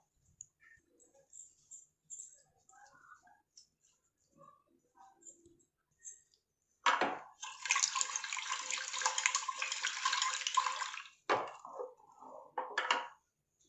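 Water is poured into a pot of tapioca in a kitchen: a few quiet clicks and knocks come first, then a loud, steady gushing pour for about four seconds, a brief pause, and a short final splash.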